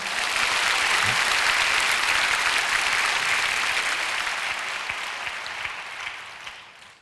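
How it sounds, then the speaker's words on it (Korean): A congregation at a Korean prayer meeting bursts into loud, sustained applause that holds steady, then slowly fades away toward the end, with no voices over it. "하나님께 박수 올려드리시죠"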